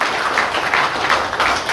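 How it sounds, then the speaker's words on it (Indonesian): Applause from an audience at a religious sermon gathering in Asemrowo district, a steady dense wash of clapping filling the whole moment at moderate loudness with no talk over it. "Tepuk tangan kita"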